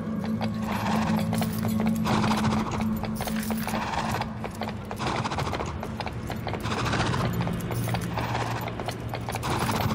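Horse hooves clip-clopping in Fable: The Journey, a steady rhythmic trot with creaking, rattling cart mechanisms and a low drone underneath, continuous for the whole stretch.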